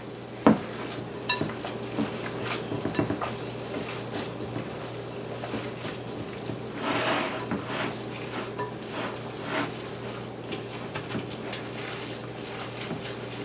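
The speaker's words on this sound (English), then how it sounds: "Still breaking up the sausages with my thumbs." Sausage meat squished and broken apart by hand in a bowl for gluten-free, dairy-free meatballs, a steady run of soft wet squelches and small clicks, close and continuous.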